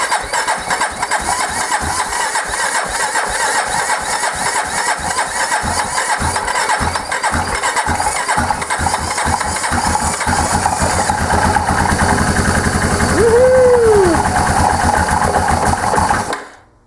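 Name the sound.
rebuilt Yamaha Kodiak ATV engine starting and idling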